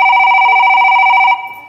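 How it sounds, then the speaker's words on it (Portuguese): Loud electronic telephone tone, a steady dual-pitch signal like a dial or ringing tone, holding for over a second before cutting off and fading, heard alone without speech. "eu acho que antes eu vou fazer um telefonema."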